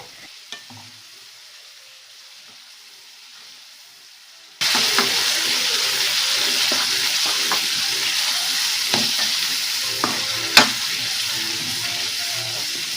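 Ground masala for a hyacinth bean (avarekalu) curry fries in oil, the quiet kitchen suddenly giving way to a loud, steady sizzle with occasional crackles and stirring.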